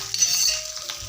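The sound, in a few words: onions frying and sizzling in oil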